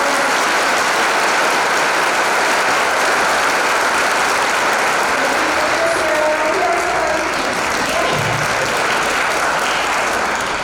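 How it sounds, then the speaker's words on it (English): A school audience applauds at a grandparents day event for the music teacher, a dense steady wash of clapping that holds loud for the full stretch with no voices over it. "Let's give her a round of applause"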